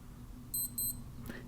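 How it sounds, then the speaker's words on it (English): Two short, high electronic hourly beeps in quick succession from an Armitron Pro Sport digital watch, faint against a low background hum. "once we arrive at 3 o'clock it is going to beep"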